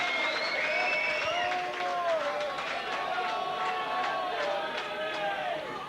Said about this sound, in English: You know the cheers of the crowd around me